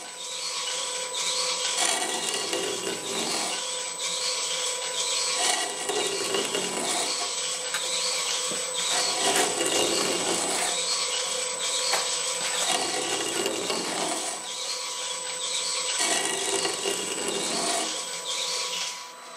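A CNC lathe runs a G33.1 tapping cycle, cutting an internal thread at a compound angle. It makes a steady, loud grinding and rasping sound with a constant high whine, rising and falling in slow regular passes. No voices are heard.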